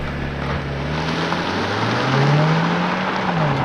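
A 2022 Mercedes C300 with a 2-liter turbo four-cylinder and 4MATIC accelerates hard. The engine drone is loud and steady, and its pitch climbs continuously through the run.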